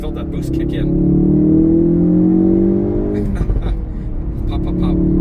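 A stock 2017 Ford Focus RS in sport mode pulls on a drag strip at part throttle, its engine note climbing steadily and loudly from inside the cabin before easing off as a voice comes in over the idle.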